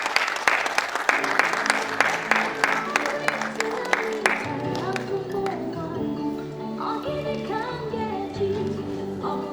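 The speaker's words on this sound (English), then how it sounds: "Let's keep clapping" Audience applause at an annual lecture honouring Engineer Nkechinyere Isigwe, a dense run of claps that thins toward the end while music and voices carry on underneath.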